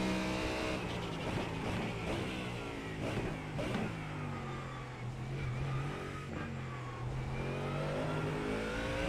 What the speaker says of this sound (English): bit of wheel spin on the exit, but overall not too bad